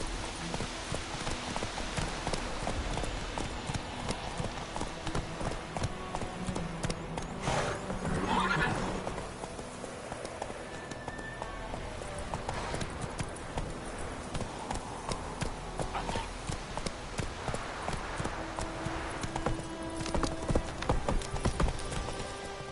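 Roach the horse in The Witcher 3, hooves clip-clopping in a steady rhythm with snorts and whinnies, close and moderately loud over light background ambience.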